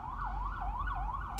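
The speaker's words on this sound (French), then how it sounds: "Une ambulance qui passe, là." An ambulance siren wails past on a busy Montreal street, its pitch sweeping up and down in a steady repeating cycle, loud and continuous over low traffic rumble.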